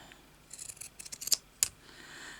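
Scissors snip through fabric while a needle book is made, with a run of quiet, close cuts and two sharper snips near the end.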